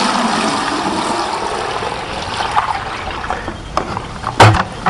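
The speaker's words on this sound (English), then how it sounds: "I'm going to put in 5 gallons into this pail" Five gallons of water pours into a 6.5-gallon pail, a steady close rushing splash that thins out toward the end with a few louder gurgles and knocks.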